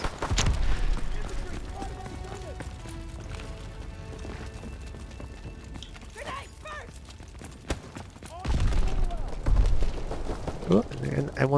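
Gunfire in the Call of Duty: WW2 beta, a World War II shooter, with scattered shots and sharp impacts under continuous game noise and voices, louder bursts near the start and again toward the end.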